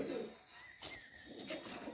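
Soft cooing of a pigeon from a highflyer breed, heard close in short low murmuring phrases, with quiet background sounds.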